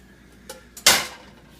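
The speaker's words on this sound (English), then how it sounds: "get a cutting board and flip it onto the cutting board and then drop it back in to the frying pan" A ramen pizza flipped onto a cutting board and dropped back into a frying pan: two light taps, then one louder clattering thump of food and pan, brief and close.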